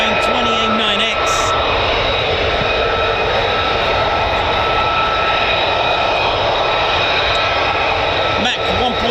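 An F-35 fighter jet passes over RAF Lakenheath with a loud, continuous roaring engine rumble that holds steady throughout, with some talk audible at times.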